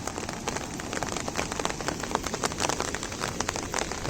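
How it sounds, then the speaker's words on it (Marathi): Heavy monsoon rain pours down in Konkan, a dense, even patter of drops striking surfaces close by, loud and continuous with no voices. "आज किती पाऊस लागलो असं तो बघा त्या म्हणणार भरपूर म्हणजे भरपूर पाऊस लागलो"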